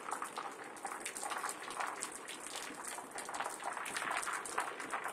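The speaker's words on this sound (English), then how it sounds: "I hope that umbrella's protecting you from that freezing cold rain." A cold rain shower falls outdoors in August, a dense, steady hiss of drops pattering on surfaces at moderate level throughout, with no voices.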